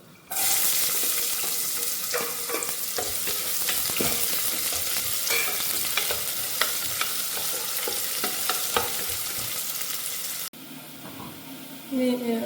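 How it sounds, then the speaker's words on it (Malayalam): Finely chopped medium onion frying in a pan for prawn rice sizzles loudly and continuously, with stirring scrapes and clicks throughout, then drops abruptly to a quieter sizzle near the end. "ഇതിലേക്ക് നമുക്ക് ഒരു മീഡിയം സൈസ് സബോള ചെറുതായിട്ട് അരിഞ്ഞത് കേട്ടോ അത് നമുക്ക് ഇട്ട് കൊടുക്കാം"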